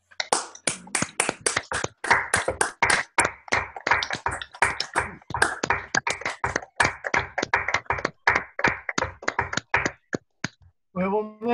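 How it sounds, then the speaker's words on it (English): Steady applause from a small group at an online union delegate meeting, many sharp claps in an even stream that gradually thins out before stopping. "And then give a big round of applause to Michael for his excellent contribution."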